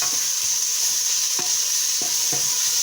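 Organic vegetable peelings and carrots sweating gently in a pan for soup, a soft even hiss with occasional spoon taps and stirs, steady and close, no voices.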